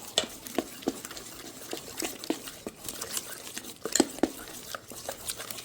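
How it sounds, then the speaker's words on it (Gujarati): A spoon stirs semolina batter mixed with Eno in a bowl, giving soft, irregular scraping and clinking taps repeated every half second or so, close and quiet, with faint talk in the background. "હવે આપણે એને હલાવી નાખશું એટલે રવો ફૂલી જાય।"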